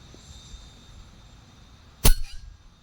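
One sharp, loud crack from a PCP airgun fitted with a muzzle brake, an RTI Mora or Prophet, stands out against quiet room hiss and rings briefly as it fades.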